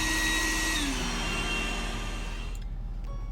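An iRobot Roomba 980 robot vacuum powering up, a steady close whirring motor hum with a high tonal whine that shifts partway through, then drops slightly near the end.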